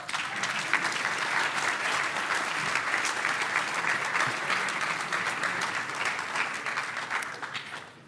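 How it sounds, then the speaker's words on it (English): Sustained audience applause at a university demo day event as a jury takes its seats, dense and steady clapping from a large crowd that gradually fades at the close. "Applause."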